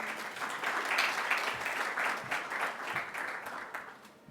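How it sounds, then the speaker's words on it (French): Audience applause at a panel session of a conference, moderately faint, steady clapping from a seated crowd lasting about four seconds before fading out. "Sous vos applaudissements, Monsieur Ibrahim Affal"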